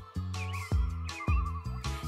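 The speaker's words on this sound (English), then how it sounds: "It sounds like a cat!" A cat meows three times in a row, close and clear, each call rising and falling, with a short pause between calls.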